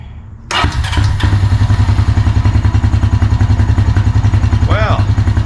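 Early-2000s Honda Rancher TRX350FM 4x4 ATV with a hard-starting fault cranks briefly, then fires and settles into a loud, close, rapidly chugging idle with a steady pulsing beat, a voice heard briefly near the end.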